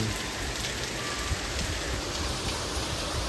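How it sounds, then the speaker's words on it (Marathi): Heavy monsoon rain falls in Nagpur as a dense, steady hiss of drops pattering on surfaces, uniform and fairly close throughout, with no voices. "आज तर चांगला मुसळधार सांगितला आहे"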